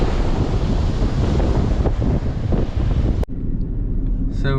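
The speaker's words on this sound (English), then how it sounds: "Windy day out there on the beach." Strong wind buffets the microphone on a beach in Virginia Beach, Virginia, a loud continuous roar with surf rumbling beneath, cutting abruptly to a quieter wash of waves near the end.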